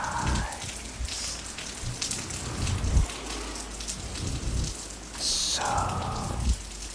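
Steady rain patters continuously on a surface, with scattered drips and low rumbles throughout, while a soft whisper briefly surfaces near the start and again later.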